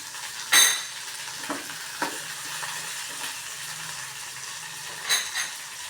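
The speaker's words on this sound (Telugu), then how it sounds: "టమాటా కూరకి సరిపడా పచ్చిమిరపకాయలు దీంట్లో వేసేస్తున్నాను" Green chillies drop into a hot frying pan of oil for a tomato curry, giving a soft, steady sizzle with a few sharp clinks and scrapes of a utensil against the pan.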